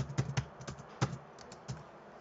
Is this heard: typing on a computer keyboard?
yes